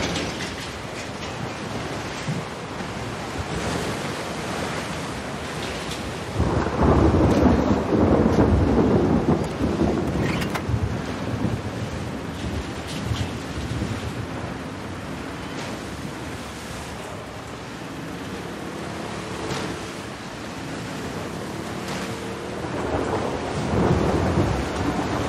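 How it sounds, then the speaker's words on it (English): Rough floodwater and a storm in The Last of Us Part II's flooded city: a constant roar of heavy rain and churning waves, with deep rumbles of thunder swelling loudly partway through, and no voices. "Water looks really rough here,"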